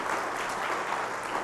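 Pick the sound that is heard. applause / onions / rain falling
applause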